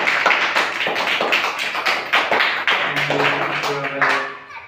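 Students applaud a teacher on Teachers' Day with brisk, close hand claps in an irregular patter, and a voice briefly hums underneath toward the end.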